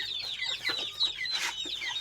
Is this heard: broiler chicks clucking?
yes